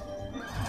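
A horse whinnies loudly and close in The Lord of the Rings: Aragorn's Quest video game, a single neigh that fills the short moment.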